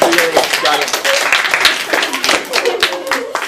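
Students in a classroom clap together in a loud, dense burst of overlapping hand claps that runs for a few seconds, with a voice talking over it.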